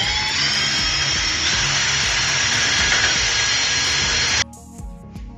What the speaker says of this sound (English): Next, we'll bore out the 2 1/8 inch hole.